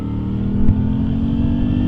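A Moto Guzzi V7 motorcycle engine pulls hard under acceleration, a loud, close, steady droning roar lasting a couple of seconds with no talking.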